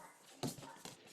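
Dog barking next door, heard as a couple of short, faint, distant yips or whimpers.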